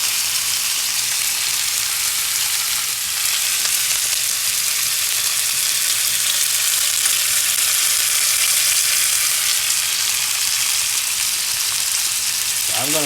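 Dry-brined picanha steaks sear fat-cap down, giving a loud, steady, close sizzle and crackle that holds unbroken for the whole stretch with no voices.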